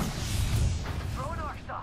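In Apex Legends, a thrown grenade detonates with a deep, rumbling boom that fades out, followed by a short burst of in-game character voice.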